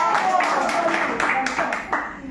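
An audience applauds at a 90th-anniversary celebration of the Isaraion association, with a steady burst of clapping lasting a couple of seconds and voices mixed in beneath it.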